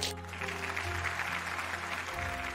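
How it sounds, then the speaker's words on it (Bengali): An audience applauding for Rai at an event: steady, moderately loud clapping from a crowd throughout, with a low hum underneath. "রায়ের জন্য একটা জোরে হাততালি হয়ে যাক।"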